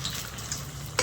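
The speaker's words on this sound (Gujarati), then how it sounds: "પહેલાં તેલને ગરમ થવા દીધું પછી એ વંગાર નાખી દીધું અને આ હાંડવાનું જે બેટર છે ને એ નાખી દઉં." Handvo batter, a Gujarati savory lentil-rice batter, poured into hot oil with tempering, giving a steady close sizzle and frying hiss through the brief moment, with a short louder burst near the end.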